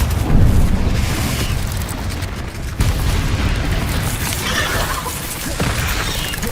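A Confringo spell in the video game Hogwarts Legacy sets off a heavy, rumbling blast that roars continuously, with a sharp crack partway through as the fiery explosion keeps churning.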